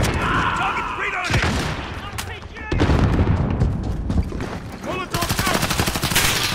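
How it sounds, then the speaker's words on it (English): Dense automatic gunfire in the multiplayer shooter Call of Duty Modern Warfare, with rapid bursts and heavy booms mixed among shouted voices and radio chatter that run throughout. "Oh, I'm taking fire!"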